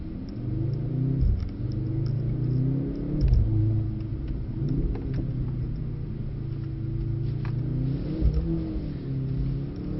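A Mercedes C63 AMG's V8 revs and surges in waves while the car drifts sideways on a track, a loud, close, continuous rumbling engine note from inside the car.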